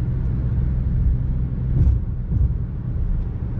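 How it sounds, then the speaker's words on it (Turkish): Steady low rumble of a Seat Ateca 1.6 TDI 115 hp diesel engine cruising at about 110 km/h, with constant road and wind noise filling the cabin. "şu an mesela 110'la giderken hafif bir motor sesi almaya başladım"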